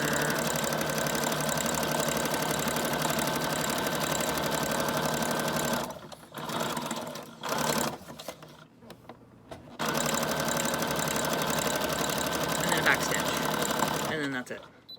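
Sewing machine running a zigzag stitch around the corner of a manila envelope for a Valentine's junk journal, a steady close mechanical whir that stops midway for a few seconds, then resumes.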